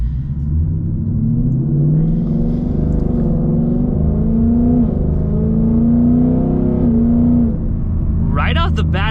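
A Ford Mustang GT running on E85 accelerates hard through a sustained pull with traction control off in sport mode, its engine note climbing steadily in pitch, loud and close, before a brief sharp burst near the end.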